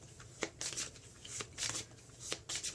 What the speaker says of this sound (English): So let me give this deck a quick shuffle as well.